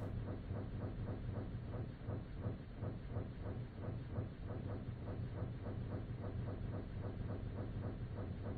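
Minecraft train running along the track: a steady, faint rhythmic clatter of wheels over rail joints with a low rumble, continuous and even throughout.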